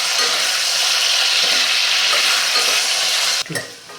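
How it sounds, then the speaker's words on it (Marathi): Two medium potatoes cut into pieces frying in oil over medium heat, a loud dense sizzle held for over three seconds before it abruptly drops and fades, with a brief clunk near the end. "तेलावरती आपण ह्या छानपैकी फ्राय करून घेऊया"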